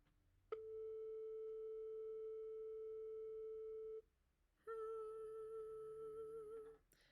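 A steady reference A tone for tuning a violin sounds alone, held for several seconds, then breaks briefly and returns with a slight waver before fading.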